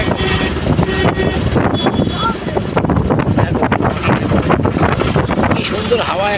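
Strong wind gusts roar steadily across a riverbank, a broad continuous rumble with buffeting on the microphone throughout.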